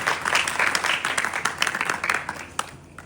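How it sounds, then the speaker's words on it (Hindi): Audience at an Independence Day school program clapping for two young children after their speech, a brief burst of dense, moderately loud applause that tapers off toward the end. "इनका ताली बजा करके हौसला अफजाई करें"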